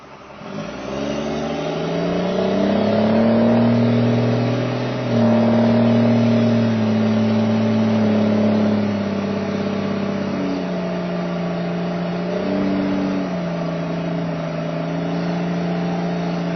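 A muffler-free turbo car engine revs hard while accelerating up a road: a loud, close, strongly tonal roar that climbs, holds and briefly dips before surging again, with no voices.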